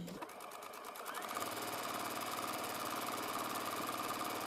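A home sewing machine runs a long stitch along a skirt from a KnowMe ME2116 pattern; after a short start it settles into a fast, even, rattling hum that carries on without pause and without speech.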